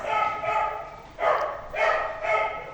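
A dog eager to play barks repeatedly, four or five loud, close woofs in a steady rhythm, with a voice faintly audible in the background.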